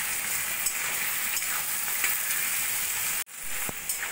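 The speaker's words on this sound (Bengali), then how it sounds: "এবার ভালো করে মশলাটা আমি কষিয়ে নেব।" Spices with ginger-garlic paste, papaya and potato fry in a pan for a raw papaya curry, with a dense continuous sizzle and faint stirring scrapes. A brief cut comes near the end, then one soft knock, with no speech.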